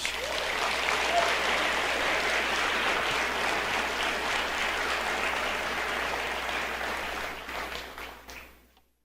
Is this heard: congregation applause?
yes